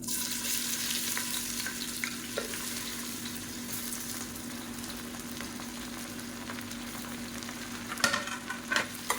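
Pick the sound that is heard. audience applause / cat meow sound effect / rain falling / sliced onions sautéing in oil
sliced onions sautéing in oil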